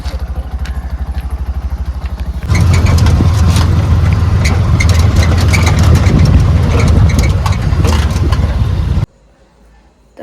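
A car engine running loudly close by, a low rumbling drone with rattling clatter that jumps in level partway through and then drops away near the end.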